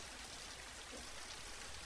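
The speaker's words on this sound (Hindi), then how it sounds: "बाहर कितनी तेज बारिश हो रही है" Heavy rain pours down outside in a steady, dense hiss of drops, constant and even throughout, fairly faint and distant.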